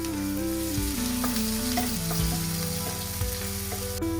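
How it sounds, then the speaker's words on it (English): Sliced green chilies and chopped onions sizzle steadily in hot oil for fried rice, with stirring scrapes and clinks of a utensil against the pan throughout, close and continuous with no talking. "Toss in 3 sliced green chilies for some heat and stir well."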